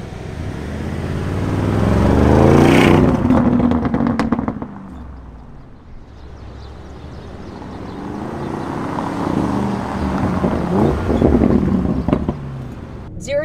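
A 2021 Lamborghini Urus tuned by Mansory accelerates hard, its engine roaring up in a swelling surge, easing briefly, then building again into a second strong pull, heard from close inside the car.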